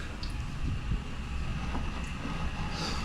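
Steady wind buffets the microphone, a continuous low rumble with gusty fluctuations and no voices.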